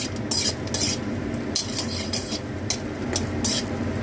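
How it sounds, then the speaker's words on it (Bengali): Bori, small lentil dumplings, frying in oil in a pan, a dense continuous sizzle broken by repeated metallic clinks and scrapes of a spoon stirring against the pan, close by. "প্রথমে আমি বড়িগুলো ভেজে তুলে নেবো।"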